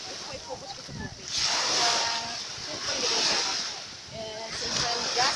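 Ocean waves wash onto the shore at Alexandria, Egypt in slow surging swells of hiss and splash, rising and falling twice, with people talking faintly underneath.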